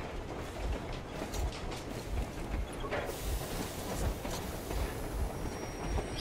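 A train brakes in the video game Metro Exodus, with steady rumbling and rhythmic clacking of wheels, a thin metallic wheel squeal and mechanical clunks throughout.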